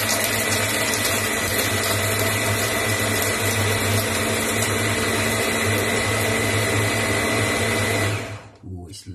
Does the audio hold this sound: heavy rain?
no